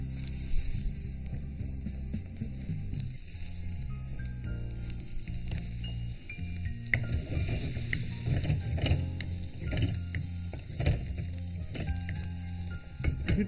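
Sliced bell pepper strips fry in butter in a pan, a steady loud sizzle running the whole time with clinks and scrapes of stirring and a ticking, mechanical rattle behind it; no one speaks.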